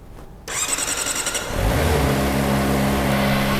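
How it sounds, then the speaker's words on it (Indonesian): A Kawasaki Ninja ZX-25R (2023) four-cylinder engine fires up after a brief quiet moment, settling into a loud, steady, high-pitched idle with smooth revving, close by and with no talk. "Terus kita akan coba bagaimana bunyi dari ZX25R yang baru ini"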